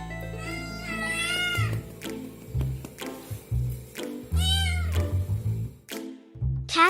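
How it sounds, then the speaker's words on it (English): A domestic cat meows repeatedly, several drawn-out, rising-and-falling calls with short pauses between them, close and clear with no talking. "Correctly, cat meow meow."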